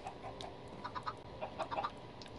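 Chickens in the Minecraft video game give short, bright clucks in scattered bursts over a quiet background, several birds overlapping at moderate volume with no talking.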